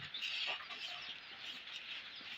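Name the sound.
chicks cheeping on poultry farm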